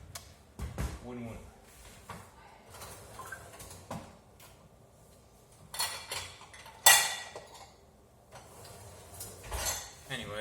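Kitchen utensils rummaged through in a drawer while hunting for a spatula: scattered metallic clinks and clatters at close range, a few sharp louder knocks, between stretches of quiet.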